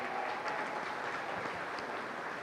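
A studio audience gives faint, steady applause at a live sports talk show taping, with a continuous soft patter of clapping and no clear voices.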